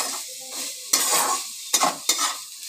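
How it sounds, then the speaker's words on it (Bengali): Grated carrot frying in ghee in a wok, stirred with a utensil: a steady sizzle runs underneath while several sharp scraping stirs land close and loud at irregular intervals, no voices. "এবার এটাকে আমি গাজরটাকে ভালো করে নেড়ে নেব"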